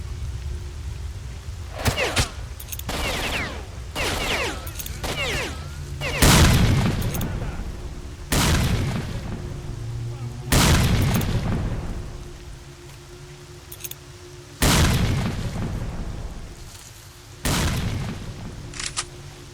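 Grenade blasts and gunfire in the shooter game STALKER: Shadow of Chernobyl, a string of heavy, loud booms with long decaying rumbles, spaced a few seconds apart, with lighter crackling shots between them.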